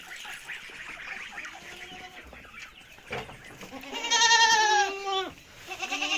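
Farm goats bleat, with a long, wavering, nasal cry rising clearly near the end over quieter earlier calls, close by and with no voices.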